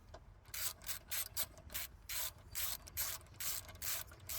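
A ratchet tightens a bolt on an AC line of a 1996–2000 Honda Civic, giving close, quiet bursts of rapid clicking in a steady back-and-forth rhythm, about eight strokes with short pauses between.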